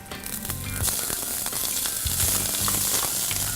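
Red onions hit very hot, smoking oil in a pan and fry with a loud, steady sizzling hiss that runs the whole time, with a few brief crackles and pops.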